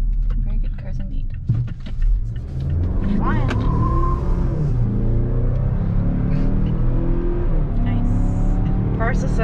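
A 2021 Mazda CX-5 launches hard from a stop, its engine note rising steadily as it accelerates, heard from inside the cabin under people talking.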